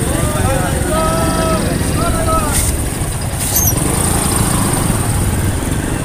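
A motorcycle with self-starter trouble runs on the road in traffic, a steady engine drone throughout with some background voices and passing noise.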